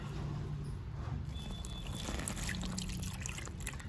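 Water poured from a pot into a bowl while making a homemade shampoo, a faint, steady trickle and splash running continuously at a quiet, close level.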